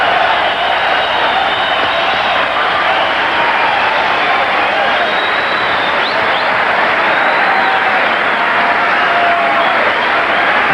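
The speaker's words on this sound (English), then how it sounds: "The crowd roaring from that one" Boxing arena crowd at the 1988 US Olympic Trials roars loudly and continuously after a furious rally in a 119-lb bout, a dense wall of cheering and applause with no pause.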